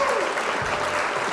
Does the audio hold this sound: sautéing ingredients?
no